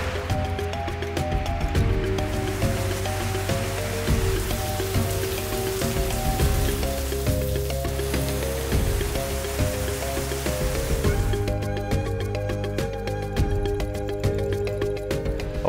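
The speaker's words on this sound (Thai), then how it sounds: "ฝนตกตกหนักที่ลังกาวีตกอีกแล้ว ฝนตกหนักครับ" Heavy rain pours steadily on Langkawi island, a dense, continuous hiss of drops on surfaces lasting throughout, close and loud with no talk.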